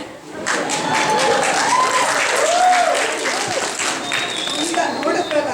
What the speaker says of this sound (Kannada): ಇಲ್ಲಿರೋ ಹೆಂಗಳೆಯರೇ ಅದನ್ನು ಜೋರಾಗಿ ಚಪ್ಪಾಳೆ ತಟ್ಟೋ ಮೂಲಕ ಸ್ವಾಗತಿಸಿ